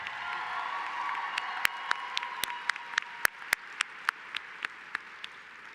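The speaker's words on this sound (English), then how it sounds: "Let's give Harlan Burke another big round of applause." An audience at a 2025 law school commencement applauds with a sustained wash of clapping, and a few sharp, loud individual claps stand out near the microphone as the applause gradually fades.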